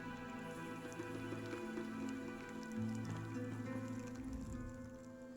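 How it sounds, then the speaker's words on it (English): Hail pattering steadily in The Elder Scrolls Online, a dense wash of small impacts under sustained low game ambience, fairly even in level throughout. "What's that noise? Hail."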